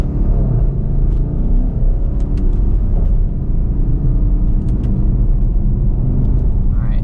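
A 2014 Porsche Cayenne GTS engine while driving gives a loud, steady low rumble with a deep drone throughout, heard from inside the cabin, with faint clicks and no talk.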